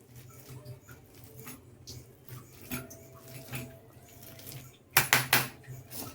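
Potato patty ingredients are mixed by hand in a bowl, giving soft irregular squelches and light scrapes at low volume, ending in a few sharper clinks against the bowl.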